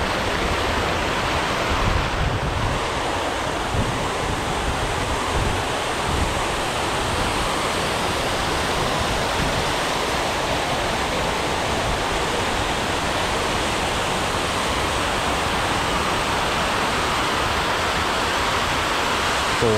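Water fountain splashing in Dubai's DIFC financial district, a loud, steady, broadband rush of falling water that continues unbroken, with no talk over it.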